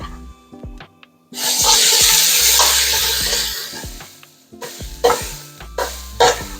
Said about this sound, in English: We're going to pop them in with the carrots, and we're going to saute these just for a couple of minutes.